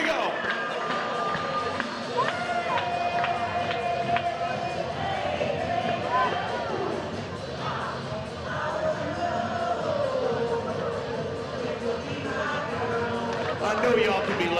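A stadium crowd at a Savannah Bananas baseball game at Historic Grayson Stadium claps along in a rhythm amid crowd hubbub, while an amplified voice talks over it.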